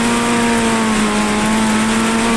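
A race car engine holds a loud, steady buzzing drone from the cockpit while driving through heavy monsoon rain in iRacing.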